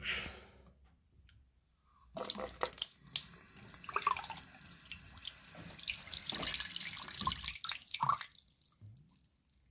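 After a near-silent start, water from a tap splashes steadily into a sink and drains down the plug hole after unblocking, a busy close-up gurgle with occasional drips and clicks.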